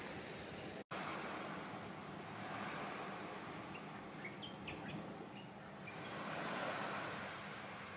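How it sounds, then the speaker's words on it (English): Ocean surf washing onto a beach, a steady broadband rush that swells and recedes over several seconds, with faint bird chirps high above it; no one speaks. "Just the sound of the waves."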